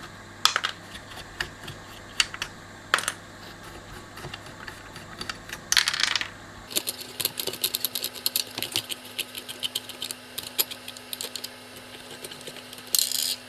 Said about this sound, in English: Just unscrew these standoffs. They come off quite nicely.